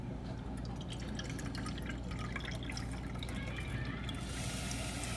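Water poured from a cup into a jaggery and flour mixture for pidi kozhukattai, a steady close trickle and splash running throughout with no talk.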